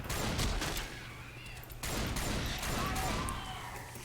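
Rapid gunfire from a SPAS shotgun in the Left 4 Dead 2 video game: dense, loud bursts of shots crackle in quick succession, with a brief lull partway through.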